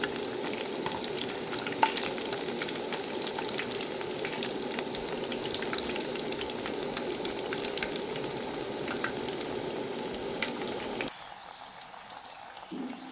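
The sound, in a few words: pumpkin fritters (beguni) frying in oil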